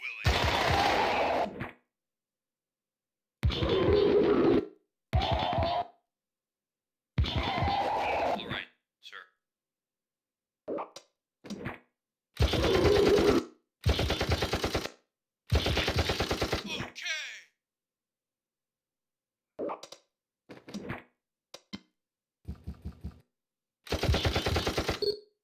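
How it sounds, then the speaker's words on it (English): Gunfire in the video game Incubation comes in short separate bursts spread through a long stretch, with a person talking between and over the shots. "Oh, he shot the guy that was far away."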